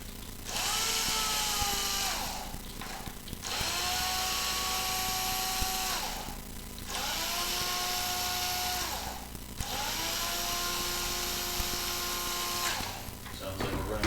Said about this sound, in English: Sounds like we're running out of battery on that drill.